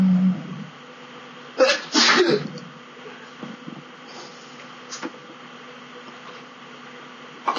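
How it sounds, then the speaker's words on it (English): A single sharp sneeze after inhaling cinnamon, loud and close in a quiet podcast room with a faint hum in the background, followed by light rustling. "Did you just sneeze cinnamon?"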